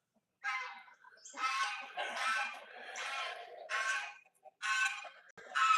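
Backyard coop chickens clucking in a run of repeated, fairly loud bursts with short gaps between them, close by, with no other sound beneath.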